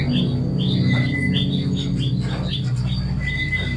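Birds and an owl chirp and call in short repeated calls over a steady, loud low hum, at an abandoned mountain resort on Mount Makiling, with no other voices.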